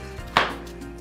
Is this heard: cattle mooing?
no